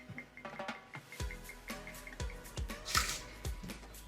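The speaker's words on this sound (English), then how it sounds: "So I also add about half of this other cup of vinegar." Homemade vinegar pours into a chicken brine in a quick series of close, soft splashes and drips, fairly quiet throughout.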